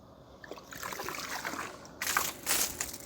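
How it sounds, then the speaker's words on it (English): Water sloshing and trickling into an Intex pool vacuum submerged in an above-ground pool, a steady close splashy gurgle with two louder surges toward the end. "put this in the pool, fill it with some water"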